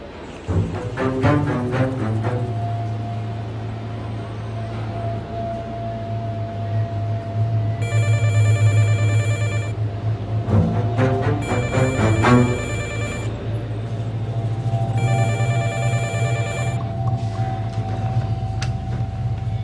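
A telephone rings in repeated bursts of bright trilling bells during a call, loud and close over a steady background hum, with no talk.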